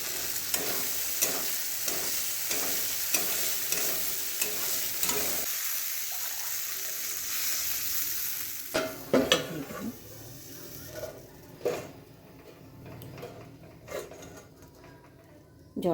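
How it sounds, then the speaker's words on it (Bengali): Spice masala for a tilapia curry is stirred as it fries in a pan, with steady close sizzling and rhythmic scraping strokes at first, then a quieter stretch broken by several sharp clanks of utensil against pan. "এবার মশলাগুলো কষিয়ে জল দিয়ে দেবো"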